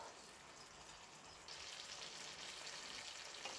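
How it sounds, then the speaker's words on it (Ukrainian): Steady crackling sizzle of beef stroganoff frying in a pan, close by, growing a little louder partway through and continuing without pause. "Шкварчить."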